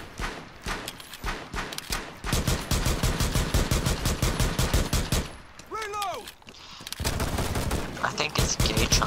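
Rapid bursts of gunfire crackle through a video game shooter, dense volleys of shots that stop briefly and then resume, with a voice talking over part of it.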